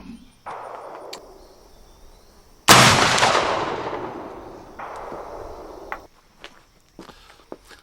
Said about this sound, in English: third shot with the grease groove cylindrical bullets